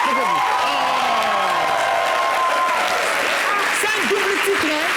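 A studio audience on a talk show applauds in a steady, dense wash of clapping that lasts throughout, while voices talk over it.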